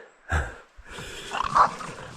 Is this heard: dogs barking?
yes